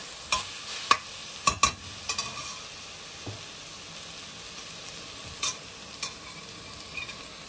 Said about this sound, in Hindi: इस स्टेज पे हम इसको बिल्कुल हल्का सा भून लेंगे और हम अपनी वेजिटेबल्स इसमें ऐड कर देंगे